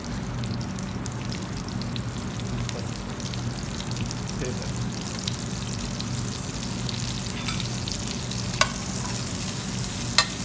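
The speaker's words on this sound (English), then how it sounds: "We'll saute the asparagus like probably for 1 or 2 minutes" Asparagus seasoned with salt sautéing in a hot pan, a steady sizzle with occasional stirring scrapes and a couple of sharp clinks near the end.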